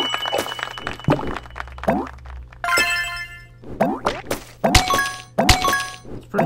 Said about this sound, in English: It's pretty fun to attack someone with a soccer ball. Soccer ball attack.